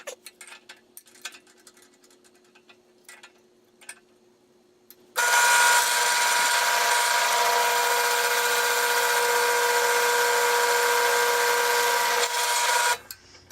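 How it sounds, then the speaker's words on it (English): Drill press boring a hole through a small metal bracket for a catch can, a steady loud whirring grind lasting about eight seconds after some quiet shop clatter, then stopping abruptly. "And then I'm just gonna drill it."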